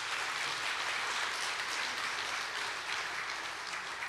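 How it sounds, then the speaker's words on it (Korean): A church audience applauds an elderly deaconess named Yang Sun-ja, a continuous, even roar of many hands clapping, moderately loud and steady from start to finish with no talk. "박수 한번 해주세요."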